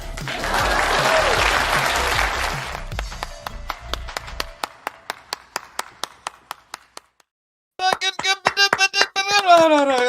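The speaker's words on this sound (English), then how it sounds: "Please clap." Audience at a live show applauding, a dense burst of clapping that thins to scattered individual claps, then a short pause before a few louder hands return.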